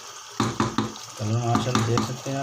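Tomato-onion paste for chicken shorba sizzles and is stirred in a pot, with a few clattering spoon scrapes and a steady frying hiss, while someone talks over the cooking.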